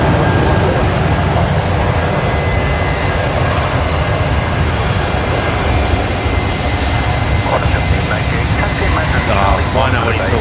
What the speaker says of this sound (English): Jetstar A330 rolling here.